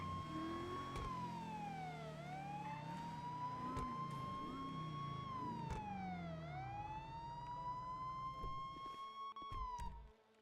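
A police siren wails from a roleplay video game, a ghost siren that lingers on a car, cycling in long rising and falling sweeps that stay loud and steady throughout, with no talking.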